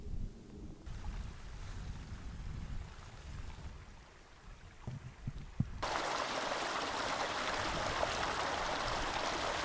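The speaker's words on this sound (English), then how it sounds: "The river's getting bigger and bigger as we go along." A growing river in the Peak District rushes and churns, heard first as a softer wash with wind buffeting the microphone, then swelling into a louder, steady broadband roar of flowing water.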